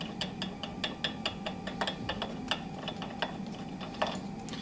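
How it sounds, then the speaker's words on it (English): A wrench works the reverse-threaded top bolt of a drum sander, giving a quick run of light ratcheting ticks and metallic clicks, close and fairly quiet, with no voice. "I'm gonna loosen up the bolt right here on the top."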